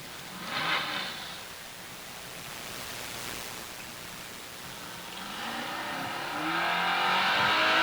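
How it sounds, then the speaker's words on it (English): A fire truck engine runs at a firefighters' drill competition, a hissing, rumbling drone heard at a distance that swells toward the end, joined by bursts of broadband noise. "Truck seems to be running okay."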